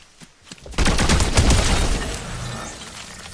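The explosive rifle in Fortnite fires a dense, loud, rapid chain of blasts that starts abruptly and rumbles on as a continuous barrage before slowly easing off.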